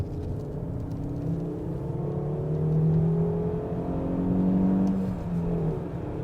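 Lancia Kappa 2.4 20V five-cylinder engine from 2000 pulling steadily on the road, a continuous low drone that rises twice in pitch and loudness as the revs climb, heard from inside the car with no talk over it.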